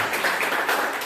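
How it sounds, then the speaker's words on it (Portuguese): A church congregation claps together in a quick burst of applause, the hand claps blending into a dense, bright patter close by and lasting only a moment. "As palmas bem fortes para Jesus por esta palavra."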